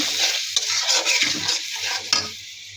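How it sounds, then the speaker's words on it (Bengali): Ground turmeric, chili, coriander and salt fry in hot oil with a splash of hot water for a Bengali fish curry with cauliflower, turnip and potato, giving a steady close sizzle broken by spoon scrapes and stirring clatter. "হলুদ, মরিচ, ধনিয়া, লবণ একসাথে দিয়ে দিব। খুব ভালো করে মশলাটা কষিয়ে নেব।"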